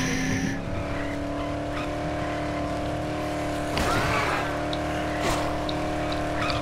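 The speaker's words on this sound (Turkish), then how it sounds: "Araba kullanma olayı ilginç yapmışlar ya." A car driven in the zombie video game Dead Island gives a steady, droning engine hum that holds an even pitch throughout, with a couple of brief scraping noises partway through.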